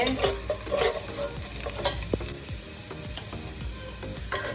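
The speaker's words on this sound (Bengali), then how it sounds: "আর রসুন দিয়ে দিলাম। ভালোভাবে নাড়িয়ে" Garlic crackles as it fries in a pan, a close, busy sizzle punctuated by quick scraping stirs and a sharp clink of the spatula, with no talking.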